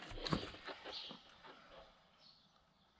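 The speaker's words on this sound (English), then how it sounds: "That sound you can hear is just the brakes on the drum." Drum brakes rubbing on a spinning front wheel of a Yamaha AG 100 motorcycle: a faint, close scraping whir that is strongest at first and gradually fades as the wheel slows.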